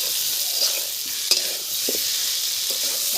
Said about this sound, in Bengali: মশলাটা যে সুন্দর করে কষা হয়েছে সেটাই এই গন্ধের মাধ্যমে বোঝা যাচ্ছে